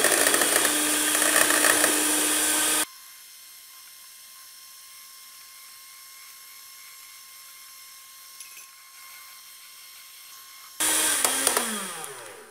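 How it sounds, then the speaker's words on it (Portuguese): An electric mixer whips egg whites as sugar is added, a loud, steady whirring that cuts out abruptly and then starts again near the end after a long, quiet pause. "Eu vou ligar a batedeira e vou acrescentando aos poucos."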